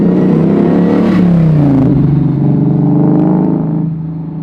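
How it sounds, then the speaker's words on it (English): Ford Coyote V8 swapped into a 1967 Mustang Fastback revs loudly and up close, the engine note climbing and falling in one sustained rise before easing off near the end, with no talk over it. "I think Coyote Motors, I love the sound of them."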